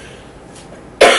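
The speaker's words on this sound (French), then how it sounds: "Excusez-moi, je vais tousser un petit instant." A single loud, sharp cough bursts out suddenly after a second of near silence and rings briefly at close range.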